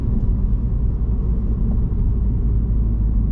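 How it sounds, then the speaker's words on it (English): A 2021 Ford Focus ST cruising around town gives a steady, unbroken low engine and road rumble from inside the cabin, with no talking. "yeah, the car just cruises along quite nice,"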